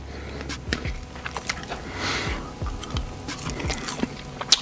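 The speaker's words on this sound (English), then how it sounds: "Salmon kind of crunchy." Close, crunchy chewing of salmon with repeated bites and wet mouth sounds in an irregular rhythm, with no talking.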